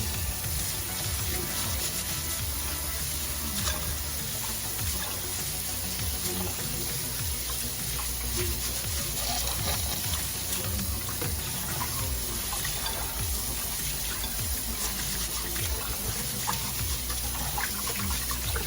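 Steady running water streams from a tap into a bowl of jasmine rice being rinsed, a constant splashing rush with faint stirring underneath, no voices.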